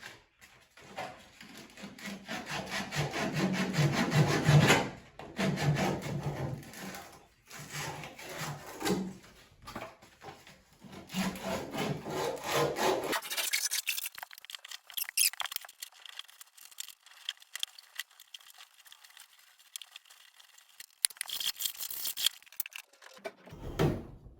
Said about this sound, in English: Now take you some sandpaper.